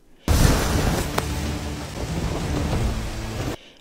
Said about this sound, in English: waves over 1 meter high crashed against the shore, driven by the violent winds and rain.